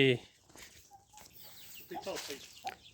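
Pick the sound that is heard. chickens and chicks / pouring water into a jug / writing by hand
chickens and chicks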